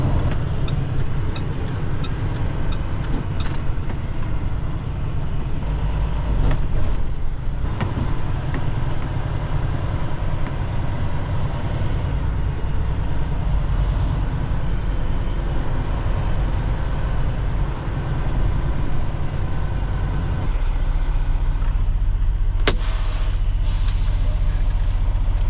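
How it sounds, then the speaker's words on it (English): A semi truck pulls into a truck stop, its diesel engine droning low and steady while sharp hissing bursts of air brakes release near the start and again toward the end, with no talking over it. "we're gonna go ahead and pull into the truck stop so I can get my weight."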